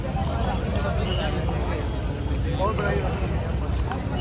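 Horses' hooves clip-clop in a Sikh procession of mounted riders on the way to a gurdwara, giving a dense, rapid, steady drumming close by, mixed with voices and crowd noise.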